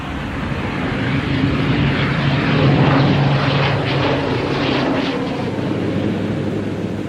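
A propeller airplane drones steadily overhead in Iceland, growing a little louder toward the middle before easing off, with no voices over it.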